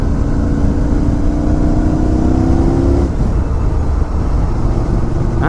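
A 2016 Motus MSTR with a 180 hp V4 engine accelerating in third gear, a loud, continuous engine roar with a rising tone that breaks off and settles, heavy wind rush throughout.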